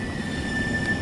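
A CSX freight train of loaded stone cars rolls past close by, a steady loud rumble with a thin high wheel squeal running over it, no voices.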